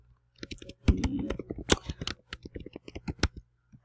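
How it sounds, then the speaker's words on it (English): Typing on a computer keyboard while entering an accounts-payable business name, a quick irregular burst of close key clicks and taps, fairly quiet, with no speech. "let me try typing in just our business name, MVT."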